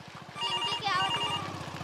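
A phone rings with a steady warbling electronic ringtone, loud and close, in rapid repeating pulses over a brief stretch with no talk.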